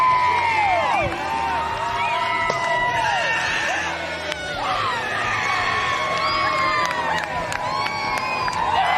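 A crowd at a timbersports competition cheers, whoops and screams continuously, with many high shrill voices rising and falling over a dense, loud roar.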